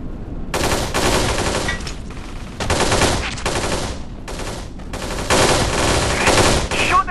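Gunfire in the video game Kane & Lynch 2: Dog Days: loud, rapid automatic bursts crackling close by, broken by brief gaps and resuming again and again over a steady background din.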